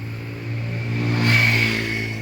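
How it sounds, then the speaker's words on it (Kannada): New Sonalika 42 HP 4x4 tractor engine revving nearby, a steady diesel drone that swells in the middle and then eases back, with no talking. "42 HP ಸೋನಾಲಿಕಾ 4x4 ಹೊಸ ಗಾಡಿನೂ,"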